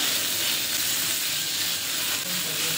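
Fish mixed into a spice paste fries in a pan with a dense, continuous sizzling hiss, close and steady, no voices.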